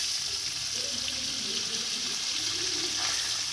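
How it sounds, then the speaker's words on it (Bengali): Pieces of fish coated in salt and turmeric fry in hot oil, giving a steady, dense sizzle that holds evenly throughout, close and fairly loud, with no talking. "এবার করব হলো মাছগুলো একে একে ভেজে নেব, নুন হলুদ মাখানো মাছগুলো।"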